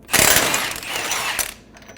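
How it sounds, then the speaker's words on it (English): A ratchet with a 36mm socket loosens the front axle nut on a 2003-2008 Honda Pilot, a close metallic clicking and grinding burst lasting over a second before dropping away. "Using a 36mm socket, remove the axle nut."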